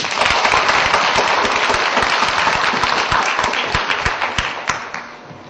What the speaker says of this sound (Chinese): 我们先以掌声欢迎他。